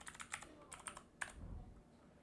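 Keys clatter on a computer keyboard in a quick burst of typing, several light taps followed by a heavier stroke, close and alone, fading into quiet room tone.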